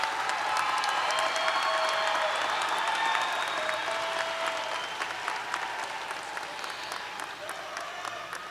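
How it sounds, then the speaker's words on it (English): Sustained applause from a large crowd at a 2022 graduate commencement ceremony, dense and steady clapping that slowly tapers off toward the end. "another round of applause for friends, family, champions in the stands"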